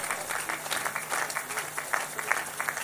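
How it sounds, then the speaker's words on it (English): A large church congregation claps during a Pastor E.A. Adeboye service, with sustained, dense applause at moderate distance and faint voices mixed in. "Clap for them as they come."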